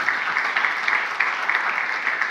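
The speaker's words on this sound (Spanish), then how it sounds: "Dale un aplauso bien fuerte al Señor Jesús" Congregation applauding for the Lord Jesus at an evangelistic gathering, a steady dense wash of many hands clapping throughout, moderately loud with no talk.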